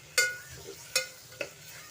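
Beans and vegetables being stirred in a pan, three sharp scrapes of a spoon against the metal over a low sizzle, with no voices.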